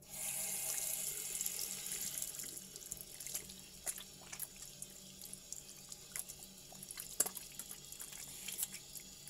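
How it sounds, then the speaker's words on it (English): Running tap water pours into a sink as hands are rinsed, a faint steady splashing stream with small irregular drips and splats throughout. "Make sure to rinse your hands thoroughly so then there's no leftover soap."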